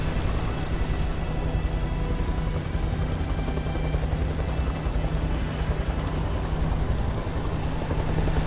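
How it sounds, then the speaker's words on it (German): A helicopter in the Beyond: Two Souls video game gives a steady, loud, close rotor thrum with dense chopping noise that holds without a break throughout. "Da ist der Hubschrauber."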